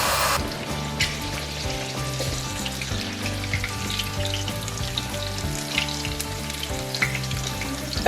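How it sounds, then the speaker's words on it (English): Thin-cut chicken pieces for a fried chicken sandwich crackle and sizzle in a pan, a dense, steady frying hiss with scattered pops, close and continuous throughout. "if you're frying in a pan like I am, don't forget to flip them around"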